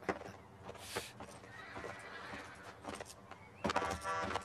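A horse whinnies a couple of times, bright high calls standing out over quieter background movement and faint shuffling.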